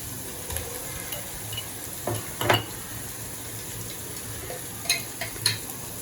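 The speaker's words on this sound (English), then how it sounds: "And now we can add in garlic paste, 2 tablespoons." Garlic paste frying in a pan for pork vindaloo, a low continuous sizzle broken by several sharp scraping and stirring clicks from a utensil, close and moderately loud with no talking.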